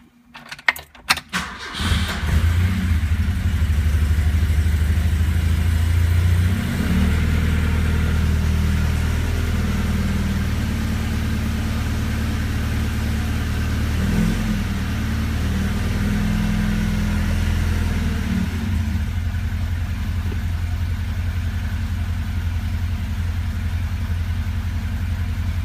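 A 1974 Alfa Romeo Spider fires up from cold after a brief starter crank, then settles into a steady, close, loud idle with a low rumbling tone that holds for the rest of the stretch, a light jangle of keys at the start.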